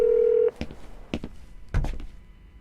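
A steady phone tone cuts off, followed by a few short, sharp keypad tones and clicks, close and fairly loud.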